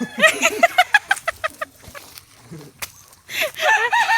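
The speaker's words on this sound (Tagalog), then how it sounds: "Nagagalit na yung mga manok sa inyo." Chickens cluck agitatedly up close, a quick series of loud, rising squawks followed by a pause and another burst of excited clucking in a rural yard.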